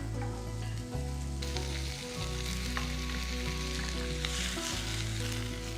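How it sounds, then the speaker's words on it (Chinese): Diced potato, carrot, onion and broccoli stir-fry in hot oil with a loud, continuous sizzle and a few stirs, heard close and alone. "起油锅炒香蔬菜们"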